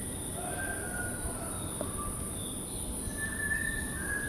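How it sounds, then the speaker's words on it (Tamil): A bird in the hills of Munnar gives a few faint, thin whistled calls at a distance over a quiet, steady ambient background. "பல்லாயிரக்கணக்கான ஆண்டுகளா தலைமுறை தலைமுறையா இதே இடத்துல வாழ்ந்துட்டு இருக்கிற ஒரு பறவையோட சத்தம்."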